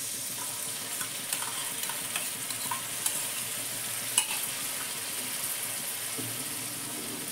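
Three spoons of whisked sour curd added to fried spices in hot oil sizzle steadily while a spoon stirs, with faint scrapes and light taps against the pan throughout.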